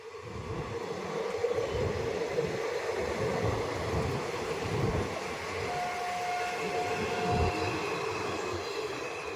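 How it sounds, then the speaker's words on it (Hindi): A train arrives at close range with a steady rumbling roar of rail cars and wheels throughout, a brief high wheel squeal partway through, and no talking. "तो ट्रेन आ गई, तो ट्रेन देख रहा है।"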